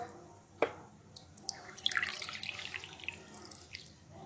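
Water poured into a pressure cooker for sambar: a sharp knock, then a soft running stream splashing for a couple of seconds, fairly quiet and close, without voices.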